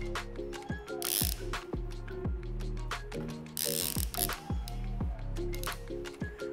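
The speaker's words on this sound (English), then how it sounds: "attach the end with the pulley system to the black strap you just put on your kayak. Then you can pull to tighten." Ratcheting pulley tie-down strap being pulled tight to secure a kayak on a car roof rack, giving repeated close, loud ratchet clicks and zipping strap pulls in an uneven rhythm, with no talk.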